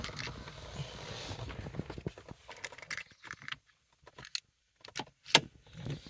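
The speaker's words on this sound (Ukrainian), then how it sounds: "Тобто дістаємо зараз ключ." A key is pulled from the ignition lock of a BMW E46, giving a few close metallic jangles and clicks among quiet car-interior handling noises.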